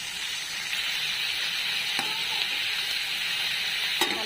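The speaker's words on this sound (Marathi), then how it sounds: "आता सगळंच आपल्याला भाजून घ्यायचंय, चांगलं परतून घ्यायचंय लाल होईपर्यंत" Masala ingredients and green chillies roasting in a hot pan, with a continuous, even sizzle up close and a few sharp spatula taps as they are stirred.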